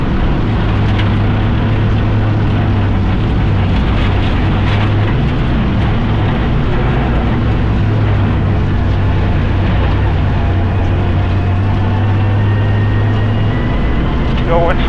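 Rally car with a dying engine on a special stage of the Oregon Trail Rally, a loud, continuous, rough engine drone with a strained tone throughout, captured close from inside the car.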